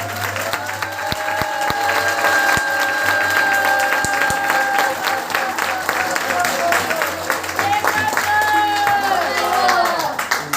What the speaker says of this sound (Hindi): एक बार जोरदार ताली करें